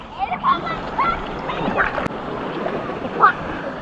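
River water rushes and splashes steadily through a canyon gorge, with a continuous churning wash and occasional sharper splashes, while children's voices call out over it.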